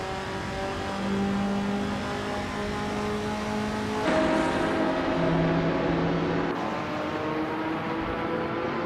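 A 1964 Ferrari 275 GTB race car engine drones steadily in a racing video game, with sustained revving and gear shifts, close and continuous.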